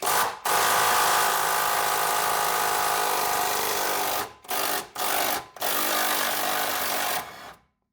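An impact wrench with a 21mm nut on a 13/16 socket hammers loose a nut during a 3.5-inch Iron Rock Off Road lift kit install on a Jeep: a long loud rattling burst, then several short bursts before it stops.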